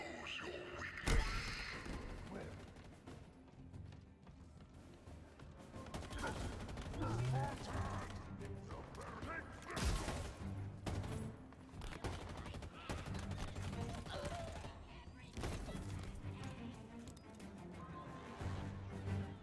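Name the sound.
gunfire in Halo Infinite video game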